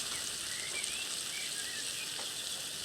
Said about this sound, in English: That's a nice sizzling noise we wanted to hear